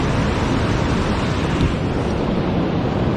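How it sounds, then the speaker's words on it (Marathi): Sea waves at Aaravi beach near Shrivardhan make a steady, loud roar of surf with wind buffeting the microphone, continuous and without pauses or voices. "एवढा मोठा समुद्र आहे."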